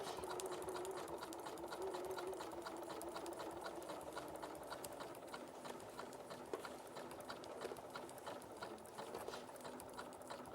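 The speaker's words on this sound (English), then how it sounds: "so we're just going to do some zigzag stitching." A sewing machine runs steadily, doing zigzag stitching, a faint, continuous rapid mechanical whir with fine ticking from the needle action.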